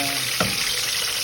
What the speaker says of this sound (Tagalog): pirito na natin yung isda sa isa